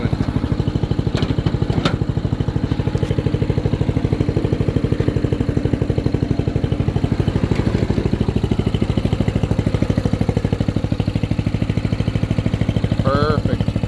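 The engine of a dirty, second-hand riding lawn mower idles with a steady, rapid, close-up chugging pulse and a faint rattle. The level stays even throughout, with a brief squeak near the end.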